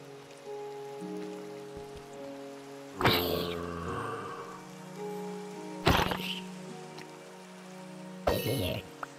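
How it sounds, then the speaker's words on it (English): Steady rain falls in a video game, a constant hiss with faint tonal background music, broken by a few loud thumping effects. "It's raining."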